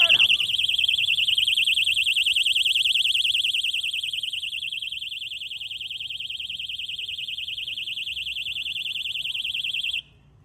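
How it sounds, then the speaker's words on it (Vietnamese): An armed ZORO alarm padlock sets off its siren: a loud, steady, piercing electronic tone that holds for about ten seconds and then cuts out abruptly. "Tiếp tục đụng khóa sẽ phát báo động."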